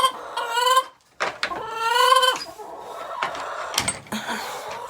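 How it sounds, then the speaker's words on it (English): Several chickens in a shed, a close, loud series of drawn-out harmonic clucks and squawks with brief pauses between calls, plus a few short knocks or scuffs. "these chickens are kind of annoying."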